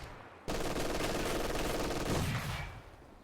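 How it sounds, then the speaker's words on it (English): Sniper fire in a video game match: loud, dense overlapping gunshot bursts start abruptly and run nearly continuously for about two seconds before tapering off. "he keeps sniping the gunner now"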